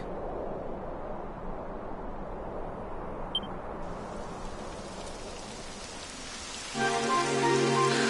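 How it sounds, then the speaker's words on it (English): Steady rain in the video game DQ, a dense continuous patter throughout that swells louder near the end as more tonal game music or effects join in. "It would have to go and start raining, wouldn't it?"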